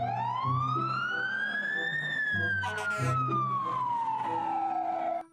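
An electronic toy fire truck siren wails up and then slowly back down, loud and close, with a rhythmic mechanical hum beneath it.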